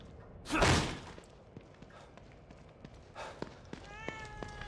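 A house cat meows briefly near the end, after a soft thud and some rustling earlier on, with a quiet room in the background.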